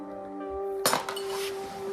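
Glass clinks sharply once amid scattered shards at an abandoned site strewn with beer, vodka and whiskey bottles, a brief bright crunch followed by fading rattles over a steady background hum.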